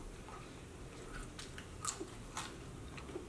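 Someone chews fries and food close up, giving faint, soft squishy bites and a few sharp clicks over a low background hum, with no talking.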